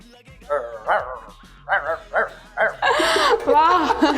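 A man on a Pakistani comedy stage show imitates a dog with his voice, giving a string of short yelping barks and whines that grow louder and denser toward the end, with other voices chattering alongside.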